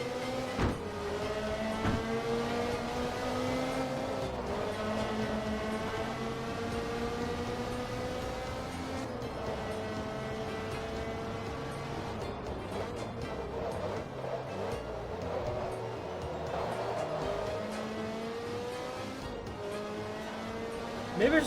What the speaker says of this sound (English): Maybe just turn down the opposing car engines, because they're kinda loud.